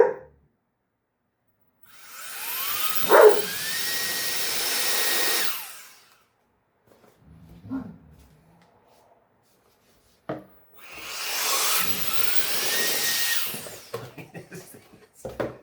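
A MECO electric air duster blows in two long, loud rushing bursts of air, each lasting about four seconds, with a rising whine as the motor spins up and quiet handling noises in the gap between them.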